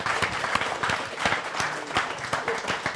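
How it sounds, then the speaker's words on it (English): A room full of people applauding a debate speaker, a dense, fairly loud run of clapping with distinct individual claps standing out throughout. "Let's go ahead and give him a round of applause"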